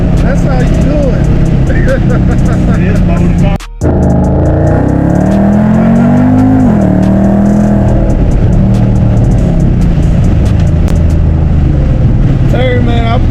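A 2014 Ford Mustang GT with bolt-on modifications accelerates hard as heard from inside the car, its loud V8 roar rising steadily in pitch, then briefly cutting out before pulling strongly again, with people talking over it.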